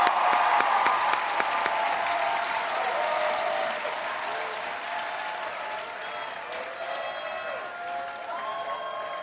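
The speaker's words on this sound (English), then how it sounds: "we should give her another round of applause" Applause from a large convocation crowd at Columbia College and Columbia Engineering fills the room, strong at first and then slowly tapering, with faint cheering mixed in and no speech.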